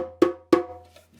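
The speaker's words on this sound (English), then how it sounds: "this drum, which is called the djembe, and it sounds a bit like this" Two sharp hand strikes on a djembe drum, a quick pair with a short ring after each, close up and alone.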